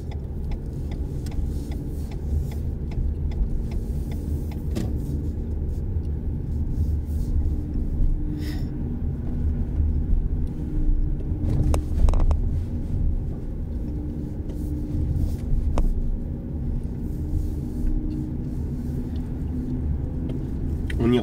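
A car creeps along slowly during a driving lesson near a driving-test centre in Rungis, giving a steady low engine rumble with faint ticking and no voices.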